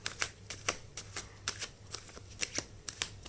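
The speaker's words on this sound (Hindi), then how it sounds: "I'll shuffle first. I'll take the cards" Tarot cards being shuffled by hand, a series of crisp riffling flutters and soft slaps coming in irregular bursts, close and fairly quiet over a low steady hum.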